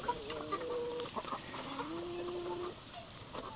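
Free-range Rhode Island Red and Plymouth Rock chickens on a farm in the Philippines cluck and murmur close by, with short soft calls scattered through a brief steady stretch.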